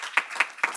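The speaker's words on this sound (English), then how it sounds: "One more round of applause" Three sparse, separate claps from an audience ring out at an even pace, brief and fairly close.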